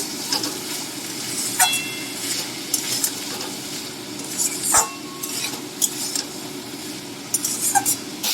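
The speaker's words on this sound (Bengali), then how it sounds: "আমি এটা আলুর সঙ্গে ভালো করে কষিয়ে নেব।" Boiled, drained figs and potatoes are sautéed together in a pan for a vegetarian fig curry, with a low continuous sizzle broken by repeated scraping stirs and a sharp utensil knock midway.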